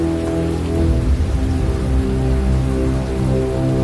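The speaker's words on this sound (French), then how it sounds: "une pluie battante se mit à tomber sur toute la terre" Heavy rain pours steadily, a dense, loud hiss of drops drumming on a surface without a break.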